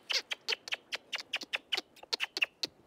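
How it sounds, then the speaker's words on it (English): Wild birds answer a call with a quick series of short, high chirps in an irregular rhythm, fairly faint and close together, with no talking. "Before long, the birds respond."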